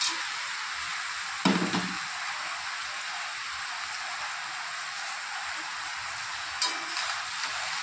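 Fish pieces frying with ash gourd in a pan, a constant soft sizzling hiss with two brief knocks from stirring, moderately close and without speech.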